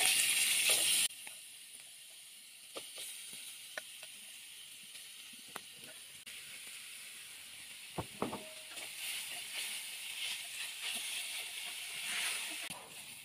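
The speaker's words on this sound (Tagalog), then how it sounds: "Igigisa naman natin tong marinated mushroom, shiitake mushroom." Marinated shiitake mushrooms sautéing in a pan, a soft steady sizzle and hiss after a loud burst at the start, with sparse clicks and taps of utensils here and there.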